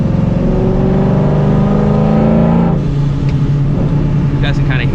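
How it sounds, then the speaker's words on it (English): A supercharged New Edge Mustang GT making about 450 horsepower, its engine droning loudly while driving, a steady rumble that drops in pitch partway through, with someone talking over it. "I feel like the car is just a lot louder now"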